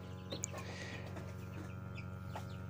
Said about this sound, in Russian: цыплята народились